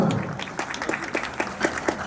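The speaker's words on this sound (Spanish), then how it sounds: "Nuevamente el aplauso fuerte, por favor." Moderate clapping from a crowd at a huaylia dance festival in Antabamba, Peru, steady and scattered, with a few sharper claps standing out near the end.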